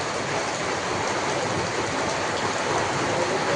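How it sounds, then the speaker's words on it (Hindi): Heavy rain pours down in a dense, steady roar of hiss and splashing, loud and unbroken throughout, with no voices. "इतना घमासान बारिश हो गई।"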